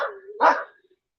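A dog gives a single close, loud bark after a brief lower whine, then quiet.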